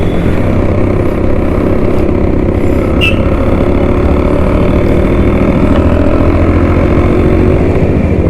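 A Bajaj M80 moped engine idles steadily and loudly up close, a continuous rough putter with no change in pace throughout.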